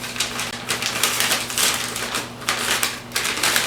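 Wrapping paper folded over a couple of times around a Christmas gift: steady crinkling and crisp rustling with a few sharper crackles, close and continuous against a low background hum.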